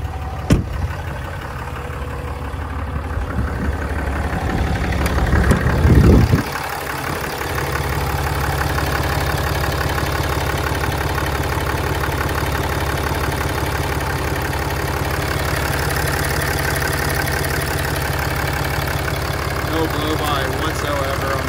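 A 2015 Ram 3500 Limited pickup truck engine idles steadily with a deep, even rumble, a brief surge of revving near the start, then a constant low drone.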